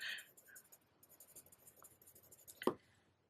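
Markers coloring in a handmade card: soft, close scratchy strokes on paper in uneven short passes, quiet, with a small knock near the end.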